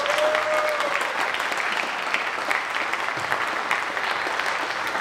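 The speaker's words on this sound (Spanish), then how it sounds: "vamos a darle un aplauso a Abdel." Sustained audience applause after a talk on lessons from real-world intrusions, a dense, even wash of clapping that fills the room without pause.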